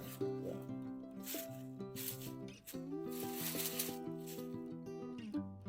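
A knife saws into cooked beef ribs with quiet scraping and rubbing strokes, heard under steady background music throughout.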